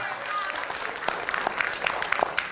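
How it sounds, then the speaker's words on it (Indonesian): A studio audience gives another round of applause at a televised Jakarta deputy governor candidates' debate, a moderate clapping texture with a few sharper individual claps, mixed with murmuring voices. "Kita berikan tepuk tangan sekali lagi."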